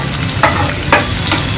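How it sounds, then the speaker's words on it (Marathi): Curry leaves frying in hot oil for sambar, a close, continuous sizzle and crackle with a few sharper bursts as they hit the pan. "कढीपत्ता तेलात टाकला तर तो परततो"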